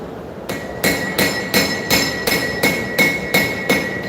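A straight peen hammer strikes knife steel at a forge, nine sharp ringing blows in an even rhythm about every 0.4 seconds, loud and close with no talking.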